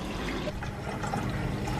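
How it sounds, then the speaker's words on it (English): Warm water running into a carpet cleaner's water tank, a steady close rushing pour that carries on without a break. "So fill the tank up with warm water, not hot."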